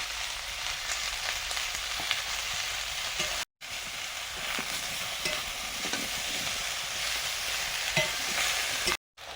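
Mixed vegetables for a Bengali pumpkin and Malabar spinach ghonto fry in a pan with a steady, close sizzling hiss and frequent stirring scrapes, broken by two very brief dropouts.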